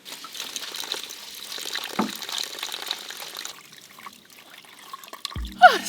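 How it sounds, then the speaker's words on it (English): Water trickles and runs from a tap while dishes are washed inside a camper van in winter, a soft, close flow with faint clinks and a sharper clatter near the end. "Doing the dishes."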